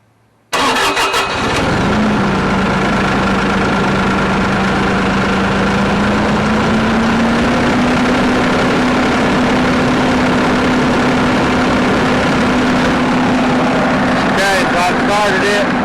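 A Bobcat E42 mini excavator's diesel engine cranks and catches after a moment of silence, then settles into a loud, steady idle that rises slightly in pitch partway through and runs on continuously.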